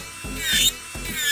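An electric nail drill spinning at 30,000 to 35,000 RPM grinds acrylic colour off a nail, a short, close whirring whine that pulses and swells as the bit presses in.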